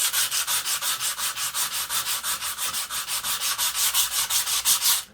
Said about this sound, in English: time to start sanding and see what's under all this rust